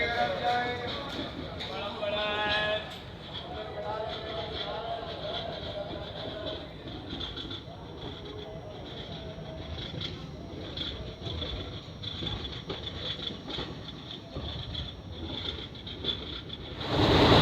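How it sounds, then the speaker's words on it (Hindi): Koyna Express passenger train running on the Mumbai to Kolhapur route after leaving Lonavala, a steady rolling rumble with wheel rattle throughout, voices talking over it. "हमारी ट्रेन लगभग 25 मिनट के डिले के साथ चल रही है"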